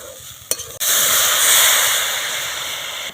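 Grated carrots in ghee sizzle loudly in a kadai pan, a steady close hiss that bursts in right after a brief clatter and holds evenly.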